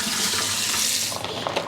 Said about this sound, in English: Now we have really cold tap water because we have a deep well